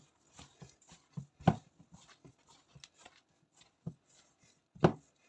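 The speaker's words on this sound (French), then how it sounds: "Voilà, tout pétrir ensemble." Sablé cookie dough being kneaded by hand with butter worked in, giving soft irregular slaps and thumps, a few louder pressing thuds standing out against quiet gaps, close and without talk.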